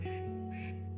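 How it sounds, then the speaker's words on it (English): Ducks quacking close by, a couple of nasal, buzzy quacks in quick succession that fill the short moment. "Maybe recording ducks quacking."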